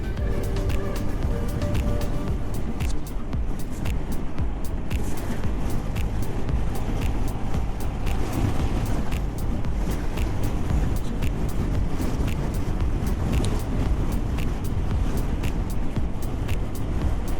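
Honda scooter cruising a short lap on a city road, with a steady broadband engine drone and wind rush that stays loud and close the whole way, no voices.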